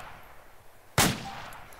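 A single sharp M4A1 rifle shot in DayZ cracks out loud and close after a quiet stretch, then decays in a short ringing tail.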